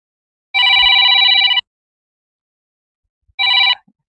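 A telephone rings close and loud in a trilling electronic burst of about a second, then a shorter second ring after a pause of nearly two seconds.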